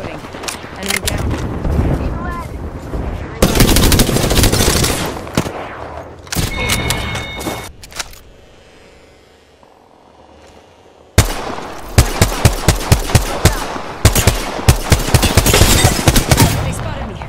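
Apex Legends battle-royale gunfire crackles in rapid automatic bursts and single sharp shots, loud and close, broken by a quieter lull mid-way before dense firing resumes.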